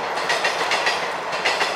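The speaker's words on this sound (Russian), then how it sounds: "Поезда ездят ядрёные." A train rolls steadily along railway tracks, its wheels beating out a close, loud, rhythmic clickety-clack with regular pulses throughout and no voices.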